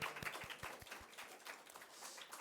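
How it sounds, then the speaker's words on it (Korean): Scattered hand claps from a church congregation during a Sunday service, a few sharp distinct claps at first, then thinning into a loose, moderate patter. "그리고 모든 영광 하나님께 박수로 올려드리기로 합니다"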